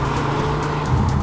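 A Jaguar F-Type coupe sports car gives a steady, close engine drone with a low growling hum throughout, with no voices over it.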